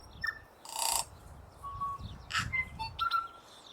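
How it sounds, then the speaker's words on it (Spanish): Tui birds in New Zealand give clear, liquid whistles and chirps mixed with short buzzy bursts and clicks, scattered irregularly at moderate distance over a quiet natural background. "Entre las cañas de lino que se mecen con la brisa aparecen los tui."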